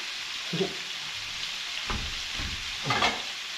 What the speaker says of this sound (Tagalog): habang naririnig nyo na kumukulo-kulo na